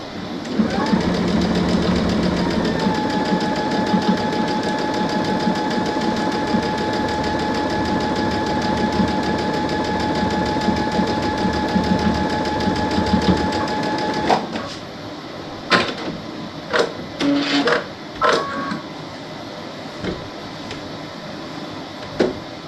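Sewing machine stitching a hair towel runs in a steady whirring drone for about fourteen seconds, then stops and gives a few short start-stop bursts.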